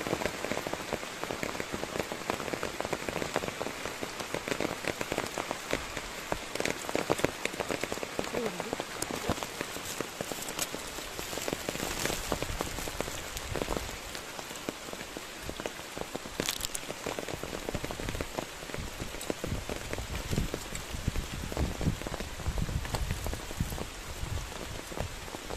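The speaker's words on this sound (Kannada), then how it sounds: "ಜೋರು ಮಳೆ ಬರ್ತಾ ಉಂಟು" Heavy rain driven by wind pours down steadily and close by, a dense unbroken roar of drops that never lets up for the whole stretch.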